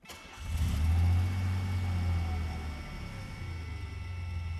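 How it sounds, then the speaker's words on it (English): A DeLorean engine cranks and fires up in a garage, catching with a rising rev before settling into a steady, moderately loud idle, with a slight exhaust leak. "It's a running and driving car. Let's start it up."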